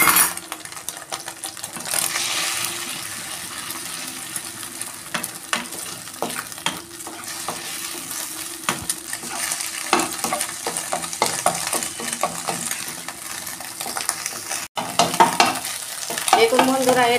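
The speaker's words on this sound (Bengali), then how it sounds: "কড়া বসিয়ে দিয়েছি, গরম হয়ে গেছে, তেল দিচ্ছি। আমি ডিমটা ভেজে নিচ্ছি।" Egg frying in hot oil in a wok, with steady close sizzling crackle throughout and scattered scraping taps of a utensil stirring against the pan, no voices.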